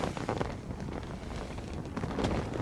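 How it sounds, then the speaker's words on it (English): Steady wind buffeting the microphone in Alaska, a broad rumbling roar with gusty swells, continuous for a few seconds with no voices. "It's always windy here."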